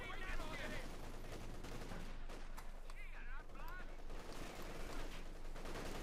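Machine gun bursts and other gunfire rattle through a Company of Heroes 2 battle on a farmland map. The firing is steady and dense, and someone talks over it the whole time.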